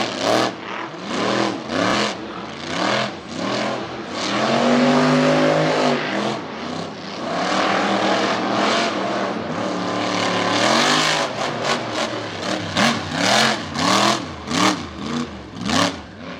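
Monster truck engines rev hard at Lake Erie Speedway during a monster truck event, loud and close, with rising and falling roars, sustained high-rev stretches and repeated sharp throttle blips.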